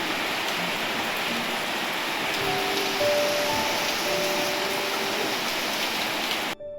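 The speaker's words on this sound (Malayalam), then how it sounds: "അപ്പോഴേക്കും ദേ അടുത്ത മഴ." Steady rain pours down in a dense, loud, continuous hiss with faint tonal sounds drifting through, then cuts off abruptly at the very end, with no talking.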